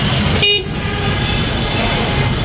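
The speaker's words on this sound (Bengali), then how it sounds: "হর্ন বাজান তো" An electric three-wheeler bike sounds its horn in one short, loud, near toot lasting about a fifth of a second. A steady noisy background fills the rest of the clip.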